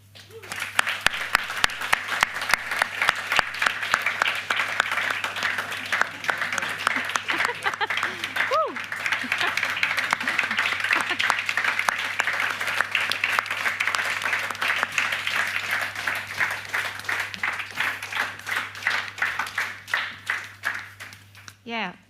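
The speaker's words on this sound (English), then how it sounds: "an extra round of applause for all the nominees and all the award winners" Sustained applause from an awards-ceremony audience cheering the nominees and winners, dense steady clapping over about twenty seconds that thins out near the end, with some voices mixed in.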